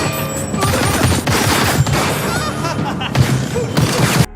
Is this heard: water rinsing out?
no